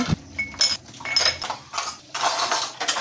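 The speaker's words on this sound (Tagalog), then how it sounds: "So amo gid ni ang imuon ta katapos ta kaon hugas ang aton kinanan." Dishes being washed after a meal: irregular clinks and clatters of plates and utensils knocking together, close and fairly loud, in short bursts with brief pauses between them.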